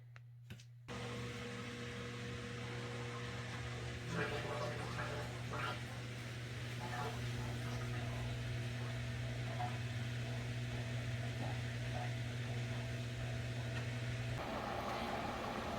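A Samsung electric stackable washing machine runs steadily after being started, with a constant mechanical hum and low drone plus intermittent faint clicks and tumbling noises, close and continuous throughout.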